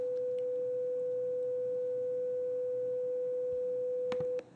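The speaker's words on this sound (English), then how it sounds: "Let's go up to 500 hertz and try it." A steady 500 Hz test tone plays through a tiny built-in computer speaker about one by two inches, loud and unbroken, then cuts off abruptly near the end with a couple of faint clicks.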